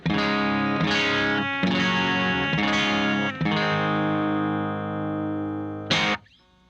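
A Telecaster electric guitar on its bridge pickup at full volume rings out in loud sustained strummed chords, several struck in succession before a final brief chord that is cut off.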